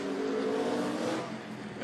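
A NASCAR Xfinity race car at Mid-Ohio in 2016 drives through a corner, its engine a fairly faint, sustained drone that eases off toward the end, with no talk.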